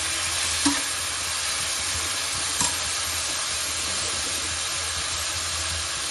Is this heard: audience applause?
no